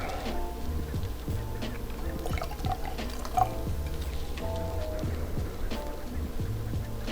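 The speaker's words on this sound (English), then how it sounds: "I'll pour just a little bit more here." Treveri sparkling wine is poured into a glass, with soft trickling and fizzing drips and small splashes, quiet and close, repeating through the pour.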